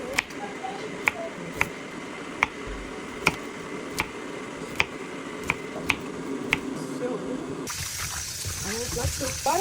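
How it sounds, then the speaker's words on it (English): Steady running water splashes and trickles while rinsing cut broccoli florets, with sharp clicks at regular intervals and a louder gush near the end. "Cut them into perfect sizes and give it a nice rinse."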